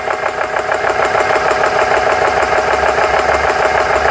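A repaired GX CS3 compressor runs at speed with a loud, steady mechanical whirring drone and a fast rhythmic knock that continues evenly from start to finish.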